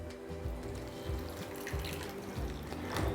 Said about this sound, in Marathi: आणि पाणी घालून घेते.